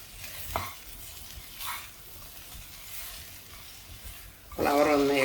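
Cauliflower and potato with chilli powder and salt sautéed in a pan over a medium flame, the spatula stirring with soft scraping strokes over a steady low sizzle, ending in a louder tonal burst that may be a voice.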